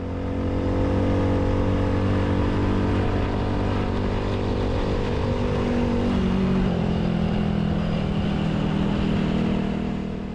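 A motorcycle rides along a road in Indonesia toward Sawarna village, its engine droning steadily and close throughout, with a slight shift in pitch midway and no talk.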